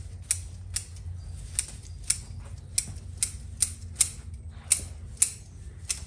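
Sharp pruning-shear snips on maple branches in a forest, about a dozen crisp clicks in an irregular rhythm, close and fairly quiet over a low background rumble.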